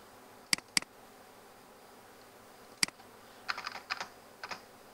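Typing on a computer keyboard while working in a Word document: a few isolated key clicks, then a short run of quick, soft taps, close and quiet against faint room noise.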